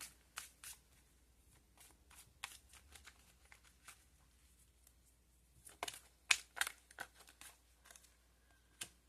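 Tarot cards shuffled and dealt at close range, with a run of soft, papery riffles and crisp flicks in quick bursts against a quiet background, and no talking.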